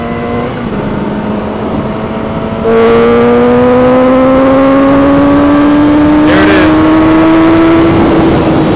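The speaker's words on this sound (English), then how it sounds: "When that bike climbs in the RPMs, it's nasty." Kawasaki Ninja 300 motorcycle engine revving high, its loud, close whine climbing steadily through the RPMs in a long sustained pull, then briefly dipping and rising again, with talk under it.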